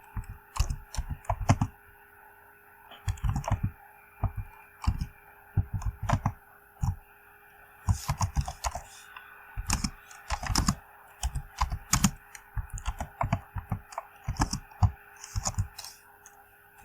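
C++ code is typed on a computer keyboard in a long series of clustered clicking bursts separated by short pauses, crisp and close throughout.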